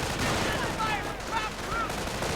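Sniper and rifle fire in a strategy video game arrive as rapid, overlapping distant shots, dense and rattling throughout with a few faint tonal whines above the din.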